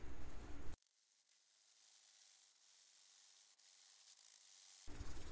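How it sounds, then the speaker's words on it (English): Play sand sifted through a screen gives a soft, steady hiss and rustle, faint and close, with no talking. "I also got some play sand that I'm sifting here to make sure that all the bigger chunks are removed"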